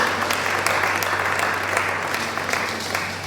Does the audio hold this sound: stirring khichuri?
no